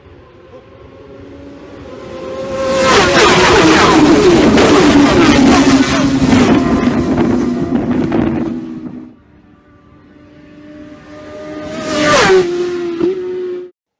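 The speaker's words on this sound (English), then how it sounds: "Now let's check out the racing with the first Superbike race." Superbike motorcycles racing at the Isle of Man TT, engines swelling from a distance into a loud roaring pass that holds for several seconds, then falling away before a second machine screams past briefly near the end.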